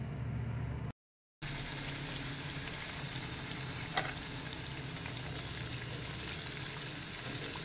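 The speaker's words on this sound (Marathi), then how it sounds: "एकीकडे मी तेल तापवायला ठेवलेलं आहे, त्याच्यामध्ये आता मस्त या पुऱ्या दोन्ही बाजूनी छान खरपूस अशा तळून घेऊयात।" Aloo palak puris fry in hot oil with a steady, close sizzle and bubbling hiss that cuts out briefly near the start.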